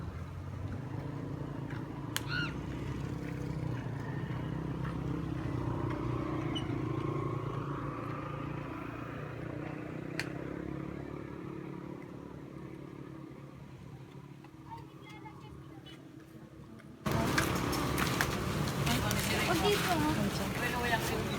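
Highway traffic rumbles as a steady, continuous low roar from passing vehicles beneath people talking, growing louder and busier near the end.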